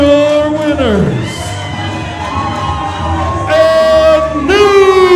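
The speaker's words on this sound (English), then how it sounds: "The crowd is going crazy." A wrestling crowd roars after a tag team championship win, loud cheering, shouts and whoops swelling in waves, with sustained screams peaking near the end.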